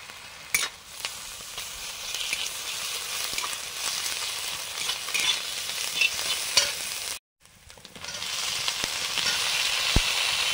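Ginger-garlic paste fries in mustard oil with a bright, continuous spitting sizzle close up, scattered stirring clicks, a brief drop to near silence midway, then the hiss returns louder, with no voices.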